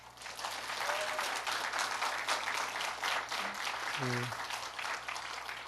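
Applause from a seated church audience during a talk by a retired insurance executive, a steady moderate clatter of hands held throughout, fairly near and full, with a brief voice murmuring underneath.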